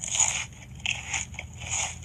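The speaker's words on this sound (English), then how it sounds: "This bite and crunch sound effect sounds exactly like the Ticket Muncher" Close, crisp crunching bites come in a few bursts, crackly and scraping, like teeth chomping into something hard, with brief pauses between.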